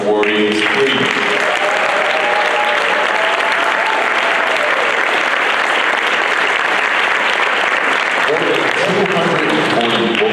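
An audience at an awards ceremony applauds its finalists and awardees, loud and sustained clapping that fills the room, with a voice speaking over it at the start and end.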